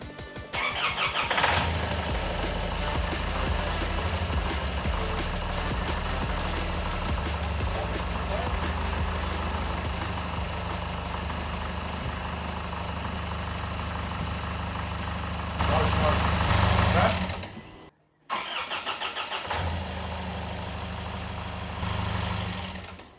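A Nissan Patrol engine, freshly reinstalled with new injectors, turns over and catches, then settles into a loud, steady idle close by. The running sound breaks off briefly near the end before resuming, with faint voices in the background.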